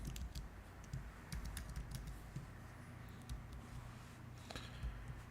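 A terminal command is typed on a computer keyboard, faint scattered key clicks in an irregular rhythm over a steady low hum of background noise.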